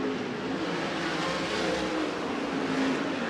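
Packed 360 winged sprint cars roar around a California dirt oval in the closing laps of a main event, a dense, steady engine drone filling the whole stretch without any voices.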